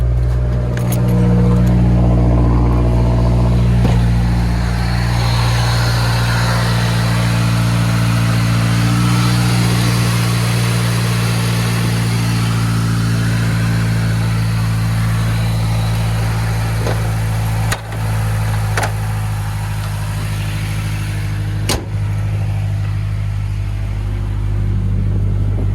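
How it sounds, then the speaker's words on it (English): A Mazdaspeed3 car engine, just fitted with new motor mounts, idles steadily up close with a deep, even hum that runs unbroken throughout, with a few faint clicks over the top. "First startup after motor mount install."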